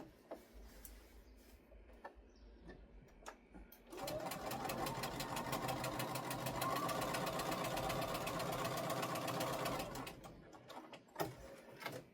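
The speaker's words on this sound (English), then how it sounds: "I did the stay stitching." A sewing machine runs steadily for about six seconds, stay stitching fabric, starting and stopping abruptly with quieter handling sounds before and after.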